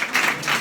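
A young audience breaks into brief applause at a public question session, short bursts of clapping that swell and fade in quick waves, fairly close and moderately loud.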